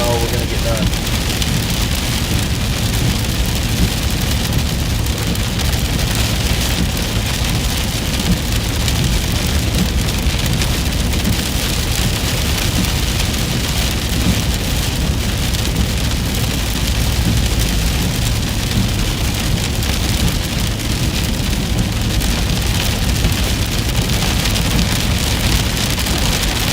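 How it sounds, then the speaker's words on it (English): Heavy rain falls steadily and loudly without pause during a storm chase in Dixie Alley under a tornado risk, drumming continuously on the surroundings. "So we can hang out in the rain together."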